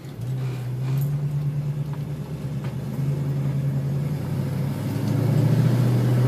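1966 Ford Mustang V8 engine running during a road test, a steady low rumble with a constant hum and slight rises in pitch, continuous and moderately loud with no talking.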